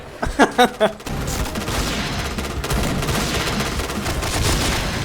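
Heavy RPD machine gun fire in the shooter game Point Blank: a short burst of several sharp rapid shots, then a sustained loud roar of continuous gunfire and battle noise.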